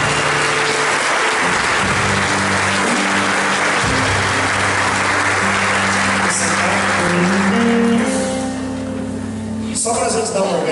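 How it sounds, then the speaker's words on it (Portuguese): A church congregation applauds together during a worship service, broad steady clapping that rises and swells under sustained music and singing, with voices mixed in throughout. "Dá uma salva de palmas para o Senhor."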